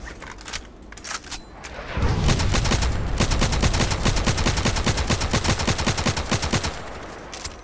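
Gunfire in the online shooter Contract Wars: a few scattered shots, then a sustained rapid burst of automatic fire, loud and dense, with no talk.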